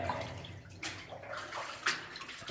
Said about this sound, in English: I think we broke the seal and like the water's flowing out